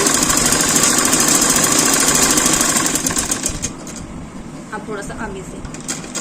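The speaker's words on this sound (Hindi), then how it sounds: "ये देखो ऐसे करके हमने ये सिलाई लगा देनी है" A sewing machine stitches elastic into trousers: a loud, fast whirring run that slows and stops about halfway through. Someone speaks quietly over the quieter tail.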